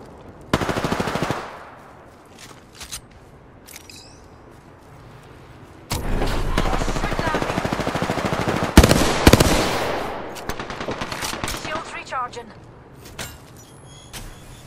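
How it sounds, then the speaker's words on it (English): Gunfire in the shooter Apex Legends comes as sharp bursts, first a short rattle, then a long sustained automatic volley mixed with loud bangs and mechanical clicks, and brief speech is present. "Shots fired."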